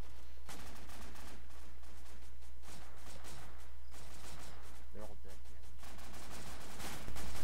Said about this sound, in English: there is an RPK or something shooting at me